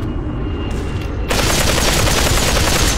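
Rapid gunfire in the VR shooter Population: One. A burst of shots crackles fast and close, loudening sharply about halfway through and rattling on without a break.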